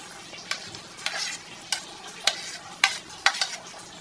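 Eggplant fried with egg and tomato gets stirred in a pan, a steady sizzle broken by several sharp utensil scrapes and clicks against the metal at uneven intervals, close up.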